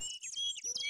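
A parrot in the 1992 adventure game Indiana Jones and the Fate of Atlantis gives a quick series of high chirping squawks, close and clear, in rapid bursts with no talk over them.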